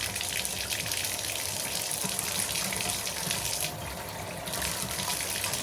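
Warm water gushes steadily from a bathtub faucet in a continuous hiss and splash, with a slight dip in flow near the end.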